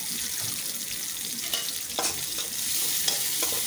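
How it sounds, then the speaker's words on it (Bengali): Chopped onions fry in oil in a wok while chicken curry is being cooked, giving a close, steady crackling sizzle with occasional scraping stirs and a slight rise in intensity toward the end. "এখন কড়াইতে পেঁয়াজ কুচিগুলো দিয়ে দিলাম"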